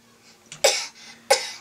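Two sharp coughs, close and loud, separated by a short breath.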